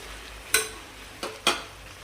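Washed basmati rice being mixed into a pot of chicken biryani: three short, soft scraping strokes, one early and two close together near the end, with quiet pauses between them.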